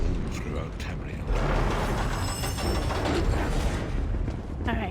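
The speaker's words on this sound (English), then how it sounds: "I couldn't hear you over the anchor being dropped." A dark anchor dropping in the Elder Scrolls Online video game, a steady heavy mechanical grinding and ratcheting clatter with creaks that swells partway through and continues at a constant loudness.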